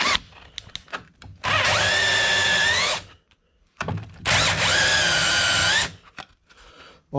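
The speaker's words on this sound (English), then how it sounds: "One of the first things I do, chamfering everything. I use a chamfer disc" A handheld drill fitted with a chamfer disc grinds the top edge of a freshly honed 10mm stroker powervalve cylinder from a Dasa 1100 rebuild, sounding as two loud, steady whining bursts of about a second and a half each, separated by quiet handling noises.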